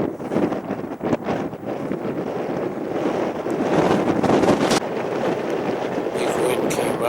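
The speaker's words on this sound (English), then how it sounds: "Big wind came up. Almost blew my head away" Strong wind gusts across a marsh, buffeting the microphone with a loud, rough roar that rises and grows steadier toward the end, with no talking.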